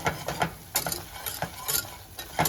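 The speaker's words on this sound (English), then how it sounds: "She making herself a roux" Flour being stirred into a roux in a pan while cooking eggplant, a spoon scraping and clinking against the pan in quick irregular strokes over a soft background sizzle, close and fairly quiet.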